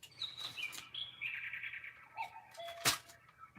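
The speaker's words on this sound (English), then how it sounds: "I hear you, bird, but we're gonna ignore you today." A bird outdoors chirps in a series of clear, bright tweets and short warbling calls, fairly close and standing out over a quiet indoor background.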